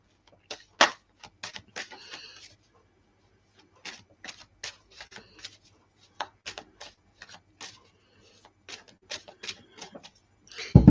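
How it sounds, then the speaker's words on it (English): Crisp, irregular bursts of tarot cards riffling and snapping, close and fairly loud, with short pauses between shuffles and no talking. "I feel I need to shuffle again"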